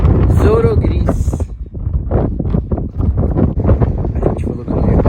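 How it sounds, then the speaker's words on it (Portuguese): Wind gusting around a cyclist riding on a loose, sandy or stony road in Chubut, Patagonia, a steady roar under people talking throughout. "Tem um vento que não ajuda também."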